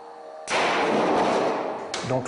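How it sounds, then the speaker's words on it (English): A counterfeit phone battery explodes with a sudden loud burst that holds as a dense, roaring hiss for over a second, then cuts off as a voice starts talking. "there was an explosion like a mini bomb"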